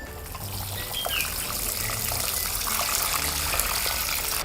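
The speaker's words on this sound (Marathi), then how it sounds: "झारीच्या साहाय्याने पाणी घाला." Water pours from a watering can into a plant pot of soil, a steady trickling splash that runs without a break, with no talking.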